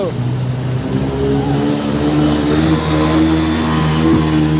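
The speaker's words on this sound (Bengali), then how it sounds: "দেখুন বন্ধুরা বাইক মানে জলে বাইক চলছে না" A motorbike engine drones steadily at close range as it rides through village floodwater after a river embankment breach, its low hum wavering as it pushes along, with a broad wash of noise over the top.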